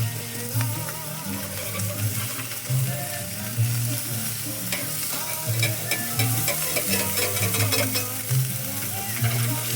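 Salmon fillet sizzles and spatters in a hot cast iron pan after being turned, a continuous close frying hiss with scraping stir noises and a low hum underneath.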